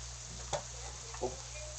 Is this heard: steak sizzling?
yes